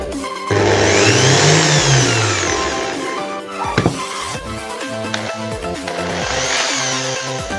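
An electric drill fitted with a drill bit runs up to speed, its whirring motor rising and falling in pitch with a brief stop and restart, close and loud.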